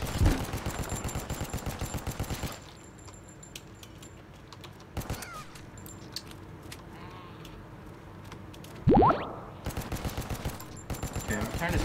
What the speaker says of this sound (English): Can I just shoot at them?